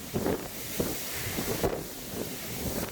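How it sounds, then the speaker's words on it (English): Harsh wind gusting through a garden, buffeting the microphone in a steady rough rush with repeated low thumps. "And that's harsh wind."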